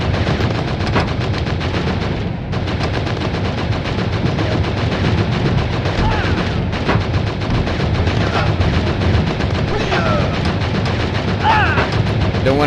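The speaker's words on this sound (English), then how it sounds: "Now I'm driving and shooting." Continuous loud machine-gun fire with explosions while driving a vehicle in the VR arcade shooter Operation Warcade. Dense, relentless rapid bursts fill the whole stretch, with a faint voice occasionally underneath.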